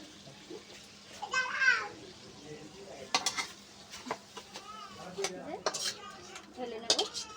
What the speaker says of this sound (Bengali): যে এবার ঢেলে নেব একটা পাত্রে।